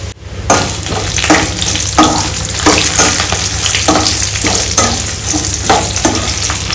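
Dry red chillies fry in hot oil in a steel pan for tomato dal, a loud close sizzle punctuated by repeated rhythmic scraping strokes of stirring.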